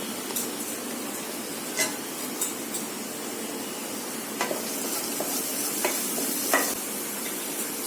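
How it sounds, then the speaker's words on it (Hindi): Three chopped green chilies hit a hot pan for fish cutlets, giving a steady, loud sizzle with occasional stirring scrapes and crackles, no talking. "मैं ग्रीन चिलीज 3 चॉप करके दे रही हूँ।"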